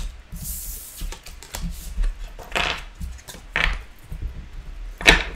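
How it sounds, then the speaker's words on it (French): Tarot cards are gathered up and shuffled on a table, with soft irregular slides, taps and riffling flutters, close and fairly quiet, with no talk. "je vais reprendre toutes les cartes"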